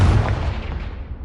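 A Confringo spell explosion in a Hogwarts video game lands as one loud, deep boom at the very start and then decays with a fading rumble.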